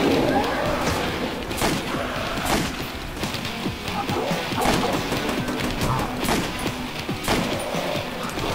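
Machine gun bursts in Call of Duty: World at War Nazi Zombies, rapid repeated cracks and thuds layered with game noise, with voices faintly under the gunfire.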